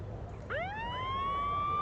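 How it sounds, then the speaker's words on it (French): A siren signal in the Nancy Drew game Ghost of Venice rises from a low tone into a sustained, steady wail with layered harmonics, clear and alone over a quiet hum. "c'est une vraie sirène"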